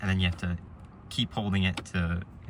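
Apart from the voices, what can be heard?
None of the usual background noises is heard.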